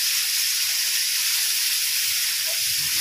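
A coriander-chili paste for street-style vada pav sautés in a hot pan. It gives a loud, continuous, close-up sizzling hiss that stays even throughout.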